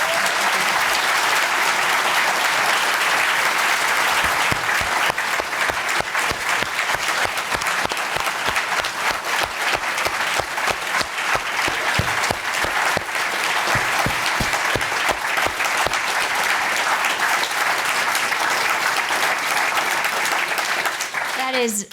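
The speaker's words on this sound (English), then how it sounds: "a well-deserved and effusive round of applause" An audience at an appreciation night claps for the speakers in sustained, dense applause lasting over twenty seconds, steady and loud without letting up, from a room full of people.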